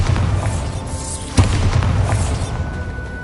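A Bombarda blasting spell goes off in a Harry Potter video game, a single deep boom bursting out over a continuous low rumble, with no voices.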